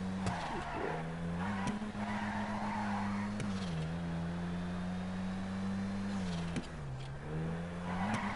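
A car drifts in GTA Online, its engine droning at a steady high pitch while the tires squeal and skid in long sweeps. The engine pitch dips and recovers at each gear or throttle change.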